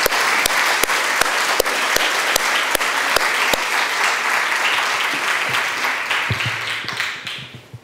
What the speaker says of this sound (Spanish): creo que se merece un caluroso aplauso por esto